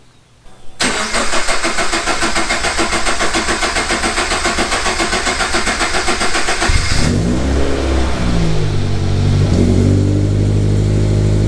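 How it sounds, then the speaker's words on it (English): A Subaru car engine cranks and starts after an oil change, then settles into a steady loud idle with a rough rise in revs, close by and with no talk. "then start the car like we normally would"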